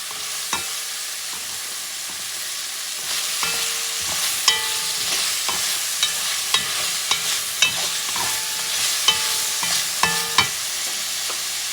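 Celery goes into a frying pan for elk stew and is stirred, giving sharp repeated scrapes and knocks of a utensil against the pan over a low, steady sizzle, close by and with no talking.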